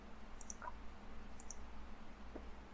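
Computer mouse clicks while working in the Tonatiuh solar simulation software, a few faint, sharp single clicks spaced about a second apart over a low steady hum.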